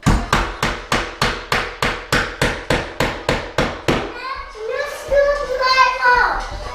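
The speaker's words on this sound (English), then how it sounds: "You want me to use the hammer?" Steady hammer blows laying floorboards, about a dozen evenly spaced sharp knocks, then they stop and someone talks nearby.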